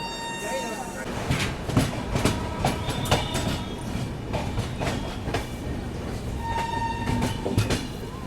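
The 12558 Sapt Kranti SF Express rumbles steadily along the rails with rhythmic wheel clatter and occasional clanks, heard from inside a 2nd AC coach, with faint voices underneath.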